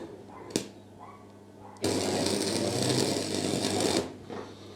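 Tack welding on an old Ford makes a loud, crackling, buzzing burst that lasts about two seconds after a brief sharp click, heard up close in a quiet garage.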